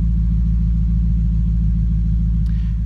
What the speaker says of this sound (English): you can kind of hear the exhaust still